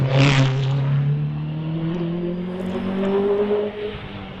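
A Citroen Saxo race car with a 2-litre BDG engine launching at a hillclimb, a loud close engine roar rising through the revs, then easing off as it pulls away, no voices over it.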